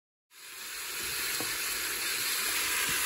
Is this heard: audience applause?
no